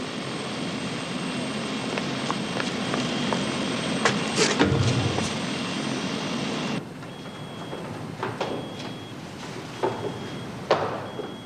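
Aircraft engine running steadily before takeoff, a broad loud drone that shifts to a slightly quieter tone partway through, with scattered clanks and thumps around it.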